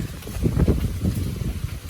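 Strong cool wind ahead of rain, a constant loud rushing roar buffeting the microphone close up, rising and falling slightly in gusts throughout.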